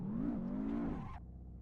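Simulated race car engine in Assetto Corsa at the Sepang circuit, a steady loud drone with a slightly wavering pitch that drops off abruptly near the end, as if the throttle is lifted.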